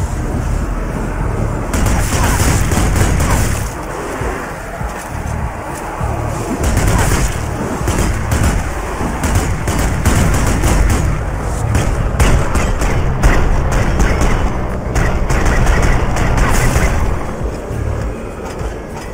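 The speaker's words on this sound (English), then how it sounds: "Gun turret here." Automatic gun turret fire in the zombie shooter Zombie Army 4: Dead War, a dense, loud, continuous stream of rapid shots with booming impacts lasting throughout, no pauses.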